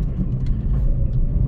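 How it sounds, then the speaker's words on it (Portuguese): A tall car rolls over a speed bump without scraping, making a steady, close, low engine and road rumble with no scrape or impact. "O carro passa de boa sem arrastar"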